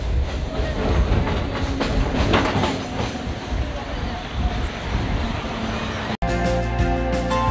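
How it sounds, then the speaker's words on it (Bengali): A train passes through Dum Dum and pulls into Baranagar station, its loud, steady rumble and carriage rattle filling the whole stretch before an abrupt cut to a quieter, humming tone near the end. "ট্রেন এখন দমদম ক্রস করে বড়নগর স্টেশন ঢুকছে।"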